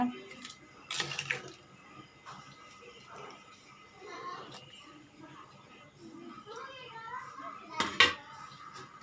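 Rice being stirred into jackfruit biryani in a cooking pot, with intermittent metallic scrapes and clanks, two sharper clatters standing out, and a voice talking in between.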